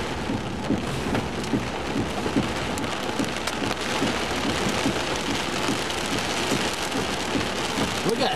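Hail and rain pelt down steadily during a severe thunderstorm, a dense, continuous patter of hard impacts heard close with no talk.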